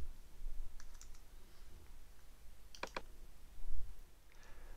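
Faint computer keyboard typing while a value is entered in degrees in graphics software, with a few soft isolated clicks and one short clustered burst of keystrokes over quiet room noise.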